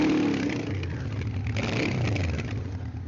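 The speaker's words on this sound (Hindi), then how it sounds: "थोड़ा सा साउंड की तरफ भी आपको लेके चलता हूँ कि साउंड किस तरीके का होता है इस मोटरसाइकिल का" A Honda CB750 motorcycle engine runs nearby, a steady mid-pitched throb with a slight rise and fall as it is revved gently, heard alone without talk.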